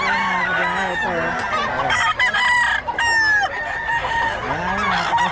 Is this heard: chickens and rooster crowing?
yes